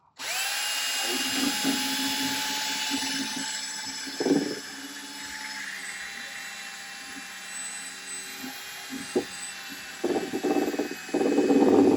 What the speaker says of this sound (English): You've got your mixer and your drill, and you just stick it in the hole here